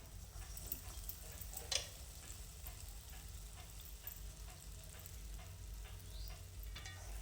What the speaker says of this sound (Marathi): आता इथं आपलं तेल गरम झालेलं आहे आणि ह्या तेलामध्ये असे वडे एक एक सोडून आपण